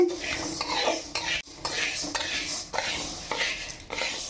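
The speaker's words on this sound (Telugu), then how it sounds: "మాడకుండా మంచి వాసన రావాలి పెసరపప్పు వేయించుకొని చూపిస్తానండి" Moong dal is dry-roasted in a pan for ladoos: the lentils are stirred continuously, giving a steady close-up rattling scrape with occasional brief pauses and a light sizzling hiss, with no voice over it.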